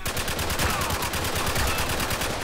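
Sustained automatic gunfire from a Spec Ops: The Line firefight, dense rapid bursts that fill the whole stretch loudly with no pauses.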